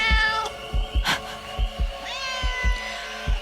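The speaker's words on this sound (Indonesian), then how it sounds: "ternyata itu hanya suara kucing" A cat meows repeatedly at night at a mountain campsite on Gunung Manglayang, a few drawn-out calls over a steady low thumping background, fairly close and moderately loud.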